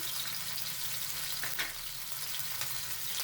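Ginger-garlic paste and crushed cumin fry in about 60 grams of oil, making a quiet, continuous sizzle with faint scattered clicks and no break.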